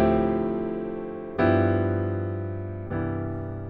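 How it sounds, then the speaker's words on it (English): A major two-five chord progression played on a sustained keyboard, three chords struck in turn, each ringing out and slowly decaying before the next, clear and close with no talking. "Now, a major 2-5 would have sounded more like this."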